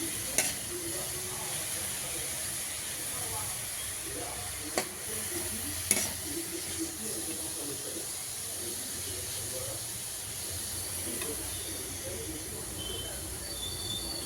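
Beetroot stir-fry with curry leaves and coriander powder sizzling steadily in a pan, a soft continuous hiss broken by a few sharp clinks of stirring, with faint talk beneath.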